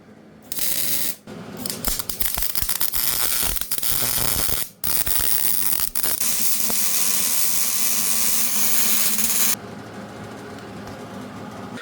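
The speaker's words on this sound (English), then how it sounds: "I'm going to go weld this now" A chain tensioner is welded onto a Jeep's frame. The loud, harsh, crackling buzz comes in sustained bursts broken by short pauses, ending with a quieter stretch.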